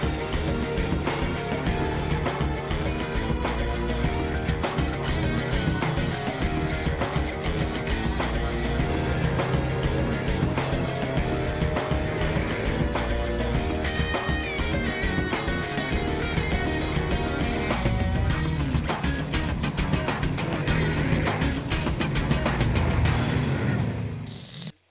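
A 2018 CFMoto Z-Force side-by-side drives off-road in poor weather, its engine droning continuously with shifting revs and rattles over rough terrain for the whole stretch, close and fairly loud.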